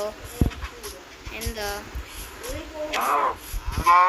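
Cows low in a Minecraft game, short moos repeating among chatter, while a person talks over them and seems to imitate the mooing.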